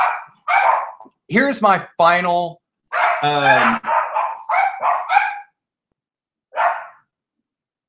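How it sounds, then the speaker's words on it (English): Several short, sharp dog barks come in bursts at close range, some stacked quickly and one isolated yelp near the end, with a voice heard briefly among them. "Oh, my dogs are barking."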